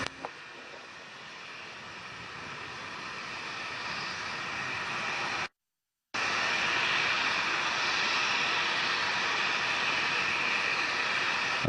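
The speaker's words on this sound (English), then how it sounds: "Second stage engine ignition." The second stage engine of a rocket launching the HTV-3 cargo vehicle fires with a steady, broad roaring hiss that swells gradually, broken by one brief dropout.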